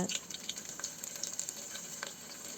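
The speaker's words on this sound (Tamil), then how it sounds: "தேவையான அளவு எண்ணெய் ஊற்றிட்டு பூண்டை போட்டு நல்லா வதக்கிக்கோங்க" Garlic sautéing in oil for a Tamil brinjal kadayal, a soft, steady sizzle with small crackles and stirring ticks, fairly faint and with no talk.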